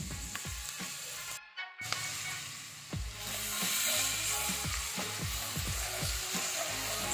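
Shallots and garlic sizzle in hot oil, a steady frying hiss with light stirring clatter throughout, growing louder after the first few seconds.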